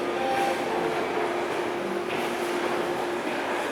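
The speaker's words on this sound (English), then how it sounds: "welcome to Grand Central Terminal at rush hour on a weekday" Weekday rush hour inside Grand Central Terminal, a steady loud wash of train rumble and concourse noise with a faint sustained tone, continuous throughout with no voices standing out.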